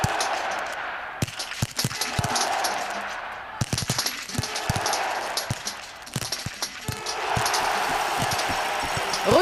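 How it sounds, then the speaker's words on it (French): Biathlon rifle shots crack out at the shooting range in a mass start race, a series of sharp, evenly spaced reports amid a busy crowd and commentary wash, with several shooters firing nearby. "Emilien Jacquelin réalise le sans faute sur ses deux premiers tirs"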